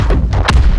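A short, heavy explosion burst from the PC shooter Call of Duty: Advanced Warfare: several loud, booming blasts in quick succession under a second, close and dense, with no voices.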